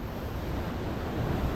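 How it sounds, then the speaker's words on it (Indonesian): Big ocean waves surge and crash along the Nusakambangan island coast, a steady broadband roar with rumbling low end and wind buffeting the microphone, continuous and loud throughout. "Ombaknya gede banget."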